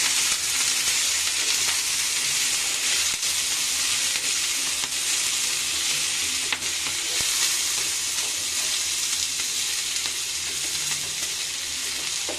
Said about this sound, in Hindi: और ले लेंगे टमाटो, इनको अच्छे से सौटे करना है। तेल में हम सौटे कर लेंगे।